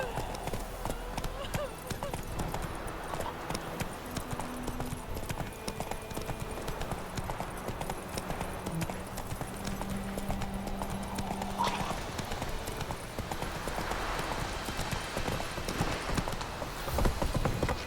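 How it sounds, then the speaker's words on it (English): Rhythmic clip-clop of a horse's hooves galloping through The Witcher 3 video game, a steady fast patter running throughout, with a voice calling to the horse over it. "Hey-ya! Whoa there, Roach. Come on."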